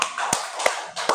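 A few scattered hand claps and taps from students in a classroom, applauding a student group after its presentation; sparse, uneven and brief, with a hiss of room noise between them.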